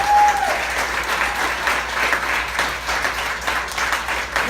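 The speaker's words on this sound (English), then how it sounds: "Give her a round of applause." Loud, close applause from a comedy open mic audience cheering a breast cancer survivor, a dense burst of clapping held for several seconds without talk.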